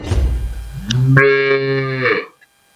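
A dairy cow on a cattle farm lets out a single long, loud moo close by, rising and holding before trailing off into silence.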